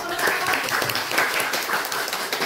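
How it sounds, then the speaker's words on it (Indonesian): A classroom of students claps together after a group presentation, a dense, steady patter of many hands lasting a couple of seconds, with some voices mixed in. "Oke, tepuk tangan dulu."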